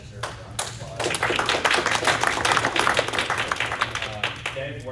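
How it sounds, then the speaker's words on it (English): A crowd at a professional development luncheon applauds steadily for several seconds, dense clapping filling the room, with a low hum underneath and the applause tapering at the end. "I think that deserves a round of applause."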